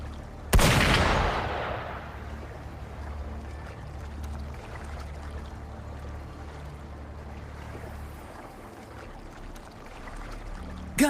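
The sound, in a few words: gunfire in video game Wuthering Waves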